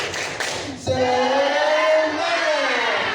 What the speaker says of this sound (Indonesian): marilah kita tepuk semangat dulu ya, biar semangat